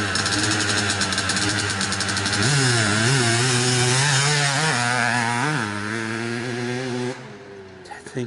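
A 1997 KTM 360SX dirt bike engine with worn, vibrating cranks idles roughly, then is revved sharply, the pitch rising and wavering before it drops back and cuts off near the end.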